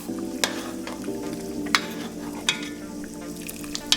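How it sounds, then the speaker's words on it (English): Curry oxtail stew simmers and bubbles in a reducing gravy while a utensil gives it a few sharp scrapes and clinks against the pot, close up over a continuous low sizzle with no voices. "Give that a good stir."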